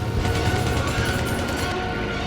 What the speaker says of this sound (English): The skies were filled with bullets from anti-aircraft guns.